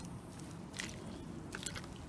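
Soaked sphagnum moss squeezed by hand over a bucket of water while potting a plant: two short, close wet squishes with dripping, quiet and without talk.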